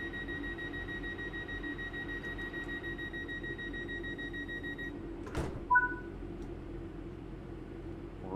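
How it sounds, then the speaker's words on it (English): A steady electronic tone stops, then a short, sharp pneumatic door closing sounds on a commuter train in Train Sim World 3 on the Glossop Line between Manchester and Hadfield. A brief two-note chime follows over a constant low cab hum. "Doors close."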